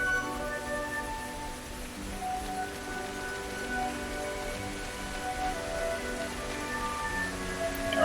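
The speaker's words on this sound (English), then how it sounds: "Looks like it's gonna rain." Steady in-game rain hisses continuously in Xenoblade Chronicles 3, a soft even wash of drops with faint tonal game music layered beneath, no voices.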